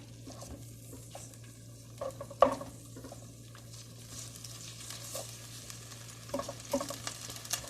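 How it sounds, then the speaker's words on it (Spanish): Chorizo or longaniza browns quietly in a pan on the stove with a low, soft sizzle. Sharper scrapes and clinks from stirring stand out, including one clear knock near the middle. "Vamos a dorar primero el chorizo o longaniza"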